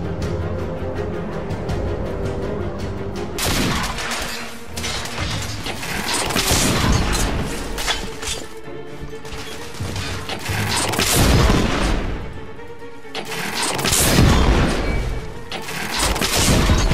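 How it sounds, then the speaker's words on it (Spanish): A heavy artillery bombardment pounds the Westminster Bridge area in The Order: 1886, with repeated deep booms and crashing impacts rising and falling in loud waves over a steady rumbling backdrop. "Se están produciendo ataques con artillería pesada."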